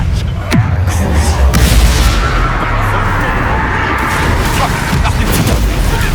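Spell combat in the video game Hogwarts Legacy brings loud magical blasts and booming impacts over a dense, continuous game soundscape, with voices speaking through it.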